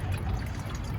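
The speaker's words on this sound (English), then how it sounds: "I can hear the actual water" A solar-powered water pump fountain, a POPOSOAP unit, trickles and splashes continuously up close in one short, even burst of flowing water with no talking.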